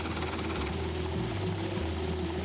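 A helicopter descends to land on the deck of a ship at sea, its rotor and engine a loud, constant close drone that continues unbroken throughout.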